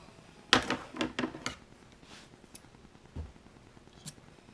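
Several sharp, close snips as excess white plastic spacer strip is cut off during a Vanagon instrument cluster LED repair, followed by a few quieter handling clicks.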